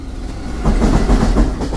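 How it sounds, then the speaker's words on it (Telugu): A train rolls in close by, its low rumble swelling after a quiet start into steady, loud clickety-clack of wheels over rail joints. "ట్రైన్ వస్తుంది"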